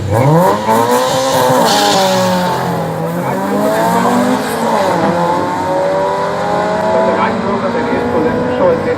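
Drag racing cars launch down the strip at Killarney in Cape Town, engines screaming as they rev through rising gear changes with tire squeal, loud and close, while a commentator talks over the top.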